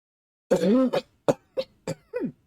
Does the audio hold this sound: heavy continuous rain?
no